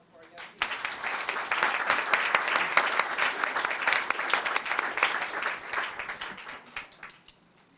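A room full of attendees at a township council meeting breaks into sustained applause, dense and even clapping that rises quickly, holds for several seconds and tapers away at the end.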